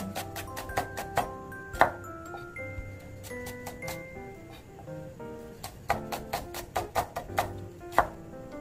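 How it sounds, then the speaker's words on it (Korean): A knife julienning onion into 5 cm strips on a cutting board, with sharp, close taps in quick bursts, a pause in the middle, then another rapid run of chops. "5cm, 채 썰어줍니다."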